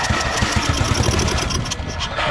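A Craftsman LT1000 lawn tractor's 12HP Briggs & Stratton flathead engine, choke held closed, cranks and catches with a loud, rapid, uneven chugging that sputters close by.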